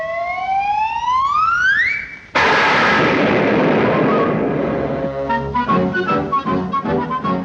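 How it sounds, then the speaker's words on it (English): Cartoon sound effects from a 1957 Woody Woodpecker classic: a rising whistle-like siren sweep, then a sudden loud explosion blast that rumbles and decays into a jaunty musical cue. "you're going to hear the doggonest explosion you ever heard."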